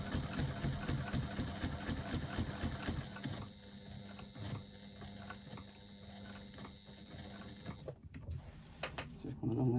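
A hand-cranked sewing machine stitching a zipper, with a close, steady mechanical clatter of rapid needle strokes that slows to quieter, intermittent ticks and clicks.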